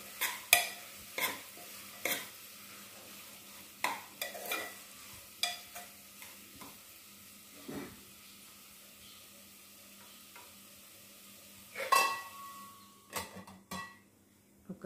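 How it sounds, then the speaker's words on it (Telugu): Tomato and vegetables for a corn soup are stirred in a pan: quiet, repeated scraping and clinking strokes of a spoon at an irregular rhythm over a faint background sizzle. "మళ్ళీ ఒకసారి మొత్తం మిక్స్ చేసుకోవాలండి"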